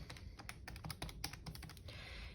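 Quick keyboard typing, a rapid run of close, crisp key clicks at an uneven rhythm over a low background hum, quiet and without speech.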